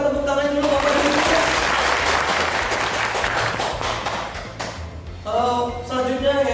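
A seated audience at a corporate product presentation claps in sustained applause, while a voice speaks briefly at the start and again near the end over the clapping.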